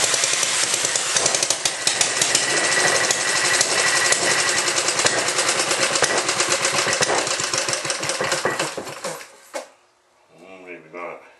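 An old Ironhorse stationary engine runs loud and close with a rapid, rattling mechanical chatter, then cuts out near the end, leaving brief quiet and a faint voice.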